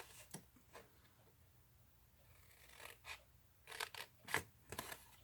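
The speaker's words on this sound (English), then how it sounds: "I want you to cut this whole corner off." Scissors snipping the corner off paper for a gift bag card, a handful of faint, sharp cuts spaced irregularly, clustering toward the end in quiet surroundings.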